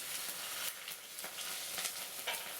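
Vadagam and chopped green chillies fry in a tempering of oil for cabbage kurma, a close, crackling sizzle with bursts of spattering and stirring clatter, no talking.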